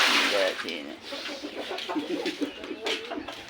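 Chickens cluck in short, busy bursts nearby, overlapping one another against a breathy outdoor background.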